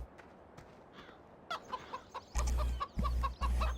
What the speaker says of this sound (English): might as well check on the chickens while we're here